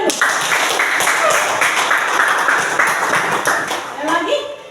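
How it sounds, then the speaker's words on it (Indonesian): Students in a classroom clap together in a lively, rhythmic burst, loud and close, with a voice talking over the clapping near the end. "Tepuk tangan dulu."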